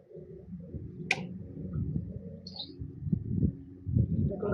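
Pigeons coo in low, repeated throaty rolls close by, with a brief chirp and a few small ticks between the calls.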